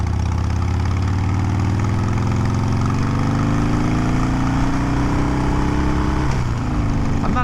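A 2020 Harley-Davidson Iron 883 motorcycle engine runs steadily while riding, a continuous loud low rumble that holds even before a brief dip in revs near the end.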